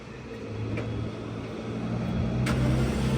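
Green Pagani Huayra BC supercar engine starting up, a low steady engine rumble building gradually in loudness with wind noise, a couple of brief sharp ticks over the drone.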